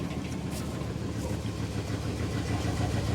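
A car engine, started for the first time in about two years, runs steadily at idle, a continuous low rumble close by with no clear start-up crank, just the engine already turning over.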